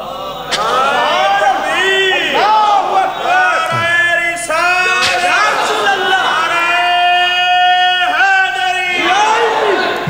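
A crowd chants slogans in loud, unison bursts during a religious speech in Arifwala, with sustained shouted voices rising and falling close by across the whole stretch.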